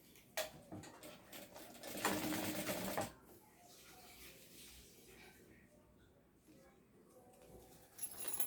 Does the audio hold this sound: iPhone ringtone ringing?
no